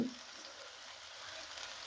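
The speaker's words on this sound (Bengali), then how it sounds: "পেঁয়াজটা হালকা হালকা ভেজে নেব" Chopped onion fries gently in a pan, a soft, steady sizzle that stays quiet and even for a couple of seconds.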